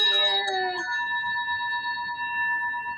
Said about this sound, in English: Yeah, ring the bell.